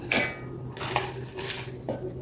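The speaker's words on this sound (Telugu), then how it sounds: "ఇప్పుడు దీన్ని ఒక మిక్సీ జార్ తీసుకుని అందులో వేసేయండి" Chopped spinach (palak) goes into a mixer jar for green idli batter, with three or four quick clinks and knocks of the utensils, close and fairly crisp over a low kitchen hum.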